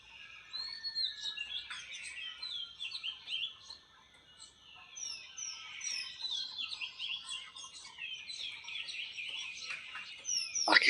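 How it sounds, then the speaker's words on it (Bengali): Birds chirp and twitter at a homestay in Kalimpong, with a few overlapping calls in bright, repeated bursts. They come from nearby against a quiet background, with a brief lull midway and a sharper burst at the end. "চলুন পাখির শব্দগুলো একটু শুনে নি।"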